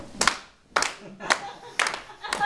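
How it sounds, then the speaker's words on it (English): Five sharp hand claps land at roughly even intervals, each crisp and close, with a voice talking softly in between. "Let's clap on three and five."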